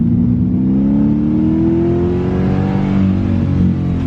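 An LSX V8 swapped into a Datsun 280Z runs loud and steady close by, a continuous low engine drone whose pitch climbs gradually as the revs slowly rise.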